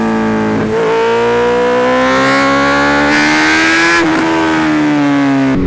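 A Honda CB 650F inline-four motorcycle revving hard, its engine note climbing in pitch and dropping back in a loud, close, high-revving wail that fills the whole stretch without talk.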